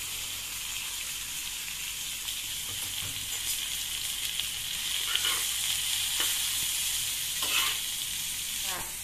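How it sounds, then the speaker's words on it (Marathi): Thin bitter gourd slices frying in a pan, a continuous moderate sizzle with occasional stirring scrapes and a few crackling bursts, no voices. "आता आपण या कारल्याला चांगल्या प्रकारे 2 ते 3 मिनिटे परतून घेत आहोत"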